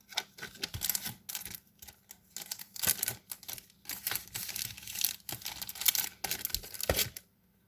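Paper is cut up for a vintage-style ATC card, giving a run of crisp, close rustling snips and crinkles in irregular bursts with short pauses and no speech.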